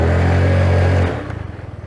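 An old 110cc automatic scooter engine revs with a steady, droning tone under the throttle, then drops away after about a second into a lower, pulsing putter, close and fairly loud.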